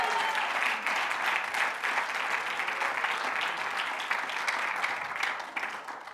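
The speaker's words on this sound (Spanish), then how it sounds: "El que lo crea, que dé un fuerte aplauso al Señor." A church congregation bursts into loud, sustained applause, dense clapping from many hands filling the room evenly for several seconds before tapering slightly at the end.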